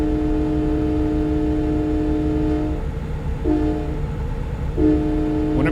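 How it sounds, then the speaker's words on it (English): A default Freightliner Cascadia train horn in the American Truck Simulator game blasts loud and sustained over a steady truck engine drone, cutting off near three seconds, then sounding again in two shorter bursts. "It's the default Freightliner Cascadia train horn."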